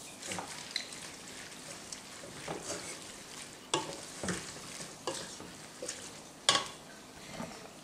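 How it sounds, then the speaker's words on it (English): Milk is stirred into a pot of macaroni and cheese with a spoon, giving soft wet scraping and sloshing strokes at an uneven rhythm, close and fairly quiet, with no talking. "And I stir in the milk."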